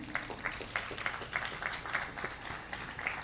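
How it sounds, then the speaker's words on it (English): Audience at a leadership summit clapping to welcome a speaker, a steady run of light, fairly distant claps with regular pulses, fairly faint and continuous throughout. "Let's clap for him as he comes."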